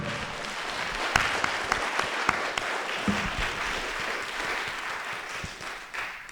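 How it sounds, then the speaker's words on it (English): A symposium audience on intangible heritage in Toronto breaks into applause, a broad steady rush of many clapping hands with occasional sharper claps standing out, sustained at moderate loudness. "Just give them a big round of applause."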